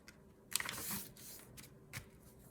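Paper junk-journal pages, a small book page and a scrapbook-style sheet, are folded in half by hand, giving a quick crisp crackle followed by softer rustling and a second brief crinkle, close and fairly quiet.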